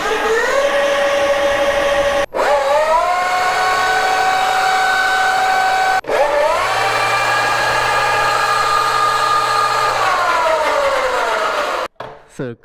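Electric dirt bikes, a Talaria Sting RMX4 and E-Ride Pro S and Pro SS models, spin up in turns, each a loud rising motor whine that holds steady and then winds down, with sharp cuts between the three runs.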